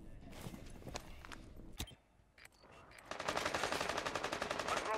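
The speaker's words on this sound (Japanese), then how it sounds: "発砲してる。" Gunfire in the video game Rainbow Six Siege: sharp single shots and then a rapid, loud burst of automatic fire, with footstep-like clatter and someone talking quietly.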